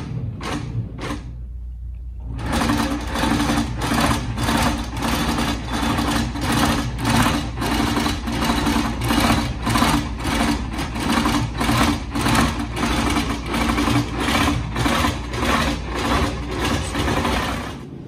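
A Handi Quilter Pro Stitcher quilting machine runs close by and stitches an applique design with fast, regular mechanical pulses. A few short bursts come first, a brief pause follows, and then continuous even stitching runs to the end.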